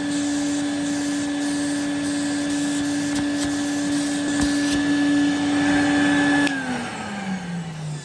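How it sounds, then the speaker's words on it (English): A Numatic Henry HVC200 vacuum cleaner runs loudly with a steady motor whine and rushing air through an air-leaking hose, then the pitch drops as it begins winding down near the end. "I can hear air leaking around when I move the hose up and down."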